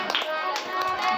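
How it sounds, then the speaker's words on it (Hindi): Audience at a devotional Bhagavat katha clapping along in time, soft evenly spaced claps blended with distant music and faint voices. "बड़े भाव से ताली का सहयोग करते हुए"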